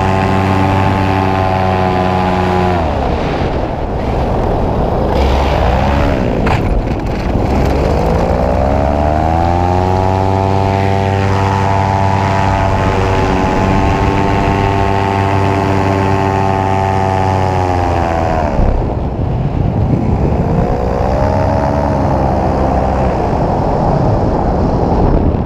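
A 2018 paramotor air trike's engine and propeller run at takeoff, a loud, close, steady drone that climbs in pitch as the throttle opens, then dips and rises again near the end.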